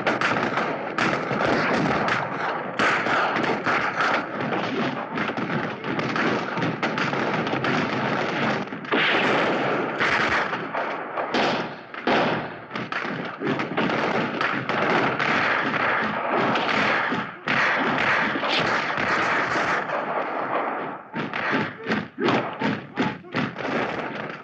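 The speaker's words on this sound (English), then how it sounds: "Keep firing, soldier." Volleys of rifle fire from soldiers in the film Zulu crack almost nonstop, loud and dense, with brief gaps near the end.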